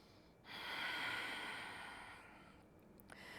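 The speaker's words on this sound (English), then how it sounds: "Another inhale here and exhale." Slow yoga breath in a quiet room: one long, soft, airy breath swelling and fading over a couple of seconds, followed by a quieter second breath, close and faint with no talk.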